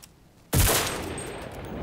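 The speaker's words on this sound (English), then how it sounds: "shots are going off, that's good" A single loud, close gunshot or burst from the video game Enlisted, a sharp onset after near silence followed by a long decaying echo.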